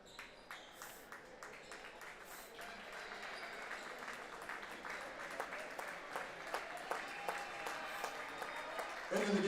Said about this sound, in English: Nice round of applause for the Lady Tigers coming off the floor here.